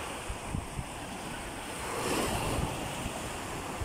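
Ocean surf rolls and crashes continuously, with a swell building around the midpoint, accompanied by wind buffeting the microphone; no voices.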